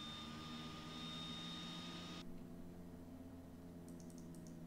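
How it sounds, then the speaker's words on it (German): Aircraft jet engines in Microsoft Flight Simulator X, a continuous droning roar with steady whine tones that drops in pitch partway through, followed by faint electronic beeps. "Wir fahren so hoch die Triebwerke."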